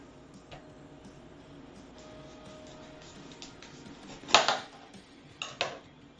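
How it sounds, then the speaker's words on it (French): A knife cutting a bell pepper on a cutting board, mostly quiet handling and faint ticks, then one sharp chopping knock followed by two lighter cuts close by. "on va couper le poivron."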